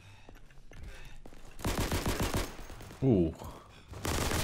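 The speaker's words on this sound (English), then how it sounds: "there was an MG in the ground somewhere" A machine gun fires in Day of Infamy: bursts of gunfire in the game sound at moderate level, interleaved with a player's voice and a short exclamation.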